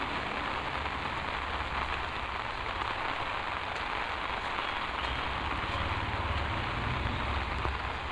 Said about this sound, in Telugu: చాలా భారీగా పడుతుంది వర్షం.